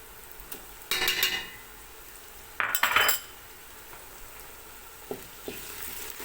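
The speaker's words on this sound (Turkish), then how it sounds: "salçayla tereyağı da erisin iyice güzel kavrulsun" Tomato paste and butter frying with onions in a pan, two loud bursts of sizzling with utensil scrapes and clinks against the pan, then quieter stirring taps, close up with no talk.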